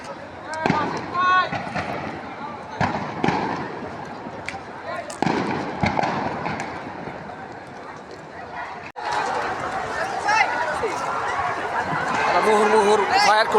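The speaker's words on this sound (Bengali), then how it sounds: "প্রচণ্ড গোলাগুলি হচ্ছে।" Heavy gunfire and grenade blasts at a street protest during the July uprising: sharp, irregular bangs, some close and loud, over steady crowd noise with scattered voices and shouting.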